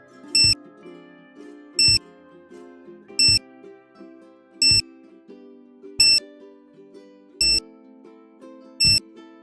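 Seven evenly spaced sharp electronic beeps from a Prime Pult Crypt Key receiver in programming mode, loud and close, repeating about every second and a half over a faint background.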